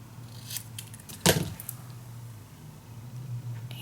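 A single sharp cut through a piece of paper for a small paper book box, one brief crisp snip over a quiet room hum, with a few faint rustles before it.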